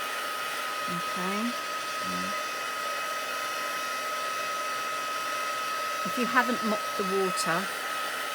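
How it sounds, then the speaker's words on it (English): Heat gun blowing hot air to dry watercolour paper, a continuous loud even whoosh running the whole time while a person talks over it. "The way to speed it up is to use a heat gun."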